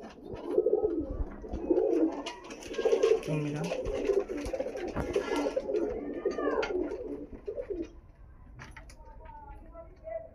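Pigeons coo and rustle close by as they are handled and shown, with people talking over them throughout and brief chirps near the end.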